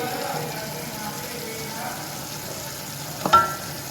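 Chicken with dry spices frying gently in a pot for chicken handi, a low steady sizzle with soft stirring scrapes and one brief louder clack near the end.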